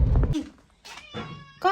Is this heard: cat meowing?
yes